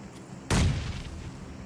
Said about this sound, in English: As of now, the grenades are being used